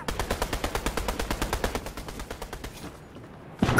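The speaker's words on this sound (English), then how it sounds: "I hear gunshots." Rapid bursts of automatic gunfire in the video game Fortnite rattle in a steady rhythm for about three seconds, then stop briefly before another loud burst begins.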